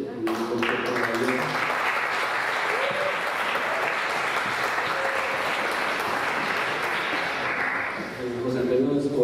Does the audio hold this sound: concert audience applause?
yes